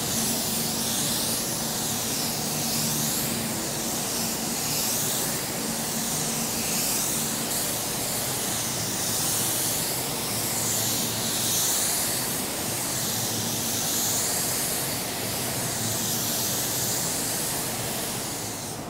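A spray gun lays base coat paint onto a car in a steady, continuous airy hiss that pulses gently as the gun sweeps back and forth, close and loud throughout with no talking.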